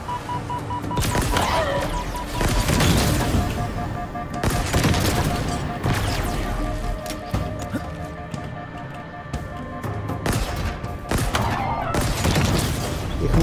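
Bursts of gunfire in Halo Infinite against Sentinels, with rapid shots and sharp impacts clustered in bursts over game music and electronic tones, while someone talks intermittently over the action.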